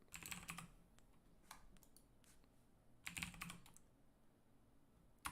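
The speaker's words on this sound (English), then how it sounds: "Here, I'll type it." Short bursts of typing on a computer keyboard, close and fairly quiet, with clusters of rapid key clicks separated by pauses.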